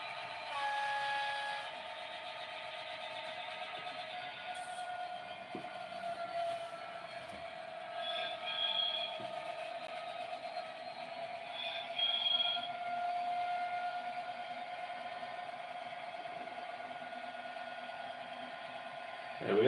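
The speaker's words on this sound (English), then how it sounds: "we'll get the proper goods train in on its way" A model railway goods train hauled by an Evening Star locomotive propels wagons along with a faint, continuous mechanical hum and occasional clicks, a quiet whistle-like tone rising twice.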